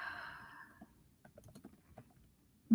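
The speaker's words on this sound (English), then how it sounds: "Hopefully you guys do not hear my keyboard." Computer keyboard typing during a writing session, a scattering of light, irregular key clicks fairly close by after a fading tone, ending with a louder thump.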